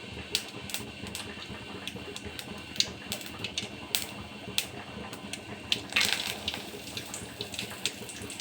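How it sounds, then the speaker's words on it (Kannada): Hot oil spits and crackles in a pan while a tempering is made for an egg and dal sambar, with irregular sharp pops and sizzles over a steady hiss. "ಚಟಪಟ ಚಟಪಟ ಅಂತ ಸಿಡಿತಾ ಐತೆ"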